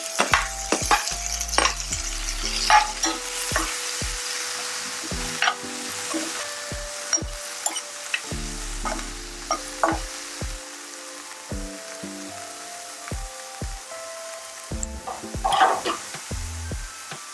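Tomatoes frying in a pan for an eggplant palya, a steady sizzle broken by frequent scraping strokes of a spoon stirring, close and fairly loud with no talking.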